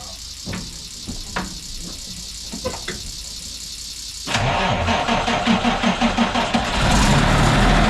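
Truck engine on a farm preparing a combine for harvest cranks in a few short bursts, then catches and runs with a rough rhythmic idle before revving louder near the end, close and without talk.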